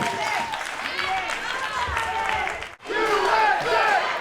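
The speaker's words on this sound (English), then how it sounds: "We hear the crowd chanting USA, Mexico." A large crowd at a Combate Global fight event between Mexico and the United States roars and chants together, dense and sustained, with a brief dip before the chanting surges back.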